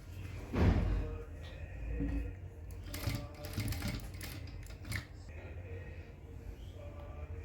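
A Jack sewing machine stitches a handle onto a sewing machine cover in quick mechanical bursts, its needle chattering and the motor whirring between thumps of fabric handling, close and fairly loud.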